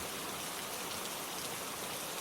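Soft, steady rain falls in an even, continuous hiss with no breaks and no voices.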